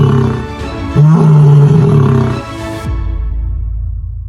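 A lion roars on the Serengeti steppe with a loud, deep, drawn-out call that swells and then fades, heard close and alone over a low rumbling background.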